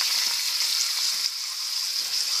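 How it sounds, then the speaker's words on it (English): Beef stew meat sizzles in a hot pan, a loud, steady hiss of frying fat that continues unbroken, with faint stirring knocks and no talking. "you can hear that sizzle, and that's what you want to hear."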